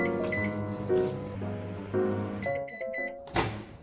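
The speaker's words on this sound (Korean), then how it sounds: "이제 전자레인지에 1분 30초 동안 돌려주면 됩니다." A microwave oven hums steadily while a mug cupcake cooks inside, then gives a series of short, evenly spaced electronic beeps near the end.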